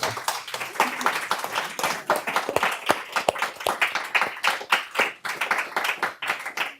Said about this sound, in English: A real round of applause